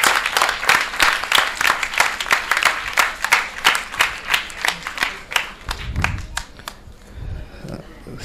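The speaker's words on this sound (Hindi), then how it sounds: "हजरात, आप भी तालियां बजाकर हिमायत करें इस इफ्तिताई इजलास की।" Rhythmic hand clapping from a mushaira audience in Solapur, fairly close and steady, with a few voices calling out under it, before the clapping fades and thins into scattered claps and murmur.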